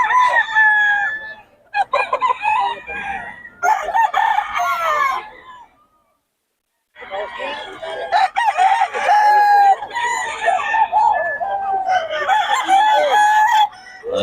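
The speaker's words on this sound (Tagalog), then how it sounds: "Oh, solid mga manok ni Boss Batang." Roosters crow repeatedly with scattered clucking from fowl at a Bocaue rooster market, loud and close, overlapping calls filling most of the stretch with one brief quiet gap.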